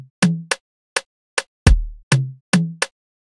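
A sparse Afrobeat electronic drum pattern: deep kick hits and sharp clicky percussion in a steady, syncopated rhythm, close and clean with silence between hits.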